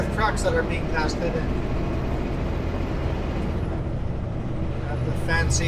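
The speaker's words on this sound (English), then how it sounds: "2 Kenworth trucks that are being tested." Two Kenworth test trucks travel Highway 97 along the Columbia River. A continuous, loud rumble of road and engine noise runs underneath, with a person talking over it.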